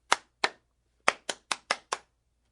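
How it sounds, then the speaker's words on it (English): A student claps his hands seven times in an uneven rhythm, sharp close slaps in two groups, two early claps then a quicker run of five, with quiet gaps between and no voices. "The student clapped his hands more than 2 times"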